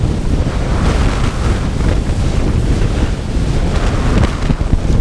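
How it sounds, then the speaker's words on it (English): Loud, strong wind and choppy waves pound a 16-foot V-hull boat on Lake Cisco in West Texas, a constant roaring rush with splashing surf and heavy microphone buffeting, and no voices. "it's warm, it's generally dry, but it is freaking windy"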